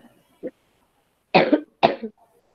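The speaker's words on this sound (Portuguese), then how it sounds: "Tava tossindo" A faint throat sound, then two hard coughs close together from a child in an online fifth-grade class, nearby and otherwise quiet.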